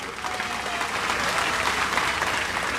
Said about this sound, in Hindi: उनके नाम की जरा एक ताली लगाएं।